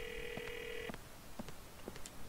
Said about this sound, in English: and then call Jim